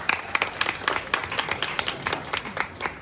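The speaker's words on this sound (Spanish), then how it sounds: "Un fuerte aplauso también para Agustín." A small audience at a presentation applauds, with individual sharp claps standing out clearly in a brisk, uneven patter at moderate volume.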